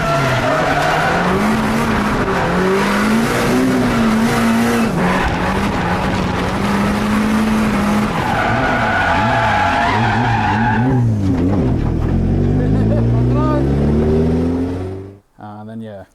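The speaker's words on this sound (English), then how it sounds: "Then I got on power, and then it'd just spin on me." A Nissan 180SX spins its wheels under power, tires squealing in long continuous skids while the engine revs rise and fall, loud and close, before cutting off abruptly at the end.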